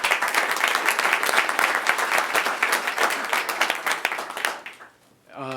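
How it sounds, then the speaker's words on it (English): A crowd gives a round of applause welcoming 7th and 8th grade students at a school event, dense clapping from many hands that holds strong for several seconds, then thins out and stops. "Let's give them a round of applause for coming out today."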